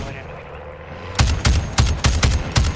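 Gunfire in the video game Call of Duty MW3 Zombies: after a quiet second, a rapid series of about six loud, evenly spaced shots rings out close by, with no speech over them.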